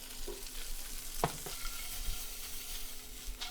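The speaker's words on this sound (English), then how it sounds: "Stirring up some ramen while it's hot" Hot ramen being stirred in a pan: a soft, continuous sizzle with scattered scraping and clinking strokes, including one sharp knock near the middle, quiet and close with no talking.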